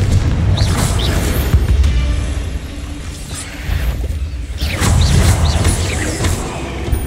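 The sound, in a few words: Confringo blast spell explosion in Hogwarts Legacy video game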